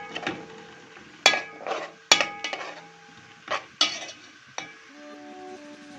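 Onion frying in a pan as it turns golden, for a baked tilapia dish, with repeated sharp scrapes and clanks of a spoon stirring against the pan over a soft background sizzle; no talking.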